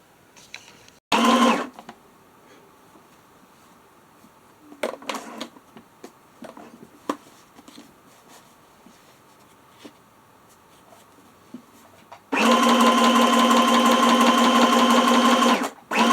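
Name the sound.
sewing machine stitching around the edges of a junk journal quilt page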